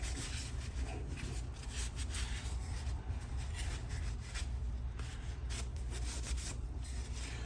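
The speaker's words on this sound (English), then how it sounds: "I like to really rub it in." Dark walnut stain is worked into a wooden phone and tablet stand with steady, quiet rubbing strokes, a continuous soft swishing texture heard close and alone.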